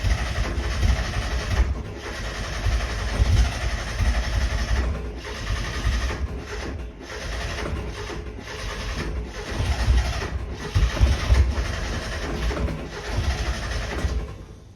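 A 1996 Mazda Miata with freshly cleaned and regapped spark plugs cranks on its starter, a steady low churning that stops and restarts several times, close and moderately loud with no talk.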